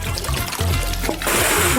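Water pours and trickles steadily, then a heavier gush splashes down near the end, close and fairly loud with no talking.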